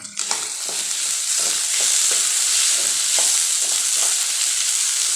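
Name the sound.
cashew nuts added to frying pan with tomato and onion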